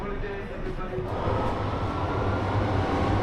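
A London subway station rumbles with a train, a steady broadband roar and low mechanical hum filling the space, loud and continuous with no clear voices.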